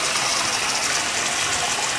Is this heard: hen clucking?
no